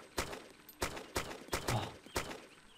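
Six sharp gunshots in the video game DayZ Origins ring out at roughly even intervals, each a loud crack with a short trailing decay, no voices.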